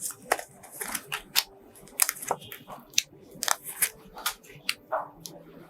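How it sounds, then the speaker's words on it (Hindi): Tarot cards being shuffled by hand, a quick series of crisp flicks and snaps close up in a quiet room. "कार्ड्स को हमने शफल करना शुरू कर दिया है"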